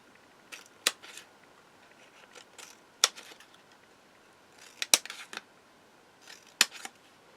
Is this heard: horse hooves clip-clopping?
no